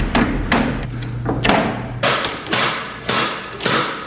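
Hammer striking metal parts on the winch of a 1966 Land Rover, about eight loud, close, sharp blows at an irregular rhythm, with a short low hum in between.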